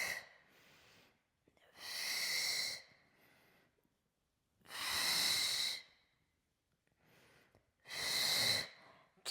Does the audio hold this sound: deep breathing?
yes